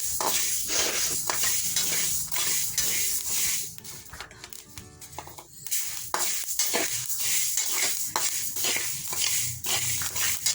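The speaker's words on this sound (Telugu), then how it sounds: "మెంతులు అండి ఇవి ఇలా వేయించుకోవాలి" Fenugreek seeds dry-roasting for sambar spice powder, stirred in a pan with steady scraping and rattling strokes and a faint sizzle, close and fairly loud, briefly quieter midway, with no talking.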